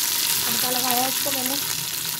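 Garlic tadka fries loudly in hot oil for a palak and moong dal saag, a dense continuous sizzle close up, with a short spoken phrase passing over it.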